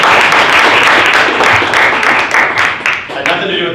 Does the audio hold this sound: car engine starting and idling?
no